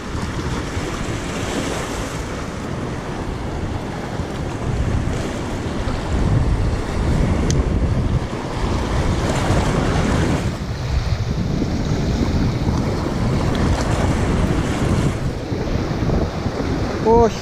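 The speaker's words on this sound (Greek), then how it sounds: "Έχει κάτι ύφαλους, κάτι βράχια μες στη θάλασσα και το νερό σκάει πάνω και πηδάει μπορεί και 2-3 μέτρα" Strong sea waves crash and burst over offshore reefs and rocks, surging continuously with loud wind buffeting the microphone in a rough Force 6 sea on a fishing trip.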